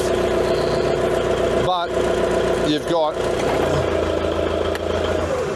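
A 2024 Forklift King 2.0FL idles steadily at a constant mid-pitched engine drone throughout, close by, while a person talks over it.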